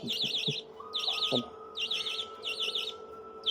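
Repeated bursts of high, wavering chirps from a hand-fed chick begging for food in an aviary, coming in a steady rhythm close by, with a faint steady tone and light clatter underneath.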